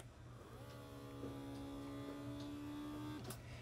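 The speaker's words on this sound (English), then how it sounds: "This is the little vacuum. You just put that right on top and press the button." A small Zwilling vacuum sealer pump hums steadily as it draws air from a glass container, its motor tone rising slightly in pitch over a few seconds before cutting off with a soft click, close and quiet with no talk.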